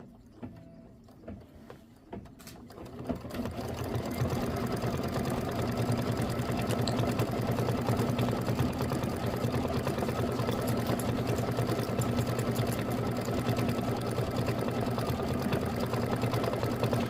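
An embroidery machine stitches a decorative outline on a butterfly quilt block. It starts with a few clicks, then settles into a steady, continuous whirring hum with rapid needle ticking that runs unbroken to the end.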